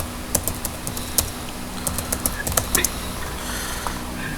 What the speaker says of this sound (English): Let me stop typing too fast.